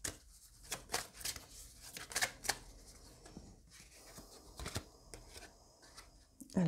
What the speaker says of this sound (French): je vais venir tirer une carte de ce jeu